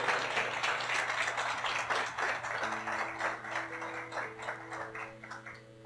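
Church congregation clapping during a sermon, a rhythmic, fairly soft patter of many hands with a low steady hum beneath and sustained organ-like tones entering partway through.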